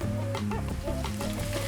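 Ginger hits a hot pan while cooking escabeche, making a brief, close sizzle mixed with a bright repeating tonal chirping, fairly loud and without any talking.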